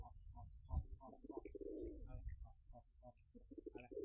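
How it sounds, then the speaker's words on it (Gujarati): Pigeons sitting inside a box coo in soft, low, repeated throaty calls, close but quiet, with a longer rolling coo in the middle and faint chirps above. "કબૂતર અંદર ડબ્બા બેઠા છે"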